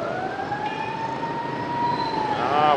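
An ambulance siren passes through dense Saigon street traffic, its steady wailing tone close by and growing louder toward the end over the low rumble of vehicles.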